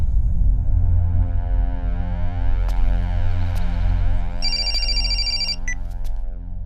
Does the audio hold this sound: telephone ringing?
yes